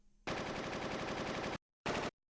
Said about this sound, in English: What was that? Gunfire?